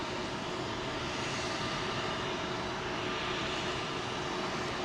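Aegean Airlines Airbus A321neo airliner at London Heathrow, heard as a steady, broad jet engine roar that holds at an even level throughout with no voices.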